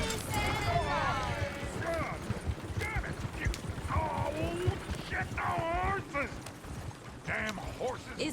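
Horses in Red Dead Redemption 2 clip-clop on the ground with steady hoofbeats under lively chatter from several voices, with short whinny-like calls rising through the mix.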